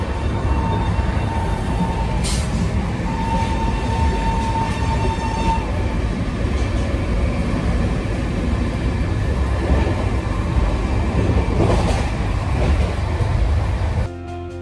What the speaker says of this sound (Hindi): यहाँ पे हम लोग पैरेलल ओवरटेक कर रहे हैं मंडवाड़ी नई दिल्ली एक्सप्रेस।